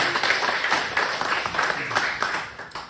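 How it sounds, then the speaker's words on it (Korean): Church congregation clapping for the choir during a Sunday service, a steady roomful of hands in continuous applause that stays even throughout. "성가대를 위해서 박수"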